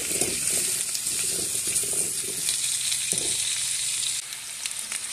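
Cubed potatoes sizzle steadily in hot oil while being turned in the pan, a constant close frying hiss with soft scraping stirs in the first seconds and no talking.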